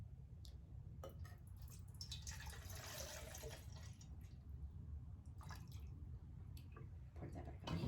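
Melted scented candle wax is poured back from a spout into a container, a faint, quiet liquid trickle with small drips and soft clinks.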